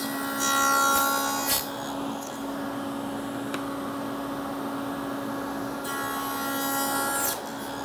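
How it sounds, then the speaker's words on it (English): A table saw cuts a tenon in a wooden test piece, with a steady motor hum broken by short, harsh bursts of the blade biting into wood; the cutting is close and plain, with no speech. "I'm going to use this to cut my first tenon and see how close we are."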